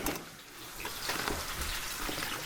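Hands washed under a running kitchen tap, a steady close gush of water splashing into a sink with no break and no talking.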